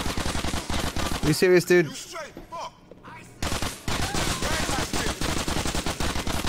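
Rapid gunfire in Grand Theft Auto IV: The Ballad of Gay Tony, loud repeated automatic bursts before and after a brief pause, with someone talking over the shooting.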